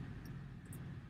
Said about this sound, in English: I do have the APU going with the air conditioner in the back,